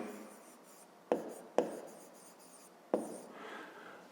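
Pen writing on paper during a math exercise, a soft close scratching broken by three sharp taps of the pen against the page.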